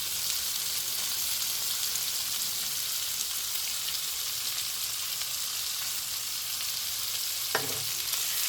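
Food for an Indian and Jamaican fusion dish sizzles while frying in a pan, a constant close hiss with one brief low thump near the end.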